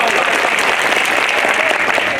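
Loud, dense applause from a large audience at an Adivasi community gathering, steady clapping throughout with no pauses.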